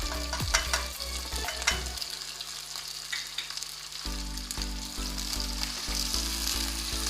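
Half a kilo of beef frying with onions and ginger garlic paste for degi aloo gosht, a loud steady sizzle with stirring scrapes throughout, close and alone.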